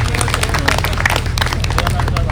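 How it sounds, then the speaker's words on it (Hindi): An audience at a Haryanvi comedy show claps for a schoolteacher character, with steady scattered hand claps over crowd murmur and a low rumbling hum throughout. "तालियां बजा दीजिए मास्टर जी के लिए"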